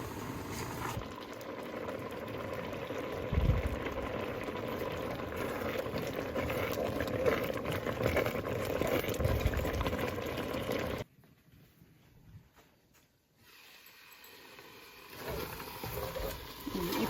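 A pan of thick tomato chutney with tamarind and turmeric bubbling and simmering, low gurgling with soft pops, dropping suddenly much quieter near the end.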